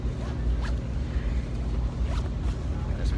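A zipper is pulled open on a medical equipment bag, with several quick rasping strokes close by against a rumbling background.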